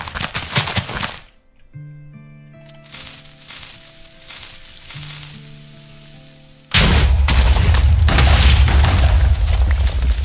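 Minecraft explosion blowing up a spider jockey: a sudden loud boom that turns into a sustained heavy roar, following game music and crackling noise.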